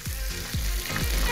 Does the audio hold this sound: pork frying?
yes